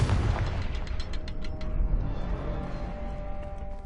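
A Confringo explosion spell blasts in Hogwarts Legacy with a heavy low boom at the start, followed by a sustained rumbling tail and scattered crackling debris that fades over a few seconds.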